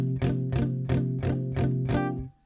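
A guitar strummed in steady downstrokes, palm-muted at the bridge for a song lesson, gives about seven short, thudding chugs at an even rhythm, close and alone.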